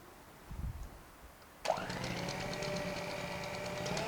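An electric mixer starts up abruptly and runs steadily, whirring loud and close as it beats cake batter of flour, sugar, baking powder, corn flour and condensed milk for Diwali short cakes with fruit and nuts.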